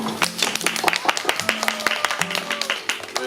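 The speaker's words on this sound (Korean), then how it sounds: "박수!" Scattered clapping from a small crowd of fans at a K-pop group VAV fan event, with a few voices and cheers mixed in, steady for a few seconds.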